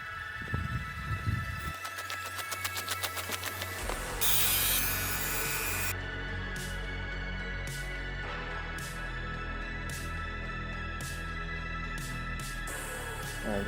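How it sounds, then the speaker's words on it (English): A Dremel rotary tool cleans up cut-out plastic model parts in a shed, with a steady high whine and intermittent grinding and buzzing contact sounds. "take the Dremel tool to it and kind of clean it up"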